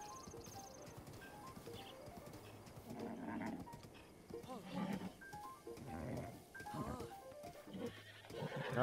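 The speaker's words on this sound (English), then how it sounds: "look how big this fucking horse is" A large horse in Breath of the Wild whinnies and snorts while hooves clip-clop steadily, with a few louder neighs near the end and faint game music underneath.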